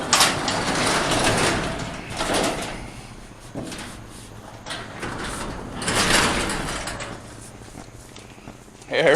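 A new custom 12-foot barn door on an old barn rolls along its track with rumbling, scraping surges that swell and fade over several seconds, with someone talking over it.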